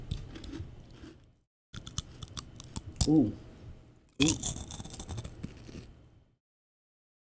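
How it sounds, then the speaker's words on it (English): Crunchy snacks being chewed and bitten up close, with loud crisp crunches in two bursts separated by short silences, while a person makes brief exclamations. "I was listening to that crunch, and I loved every bit of it"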